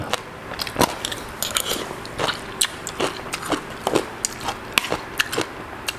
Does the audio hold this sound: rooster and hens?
no